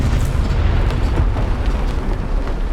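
Artillery shells bursting around a M4A2 (76) W medium tank in War Thunder: a continuous heavy, rumbling roar of explosions, loud and close, with no clear gaps between impacts.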